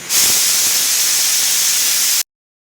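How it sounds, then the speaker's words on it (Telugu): A kitchen pressure cooker cooking dal for a tomato curry vents steam in one loud, steady, rushing hiss lasting around two seconds, then cuts off abruptly. "కుక్కర్ మూత పెట్టి 2 విజిల్స్ రానివ్వండి"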